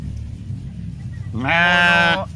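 Sheep bleating: one loud, close, wavering bleat lasting under a second, rising out of a low background hum.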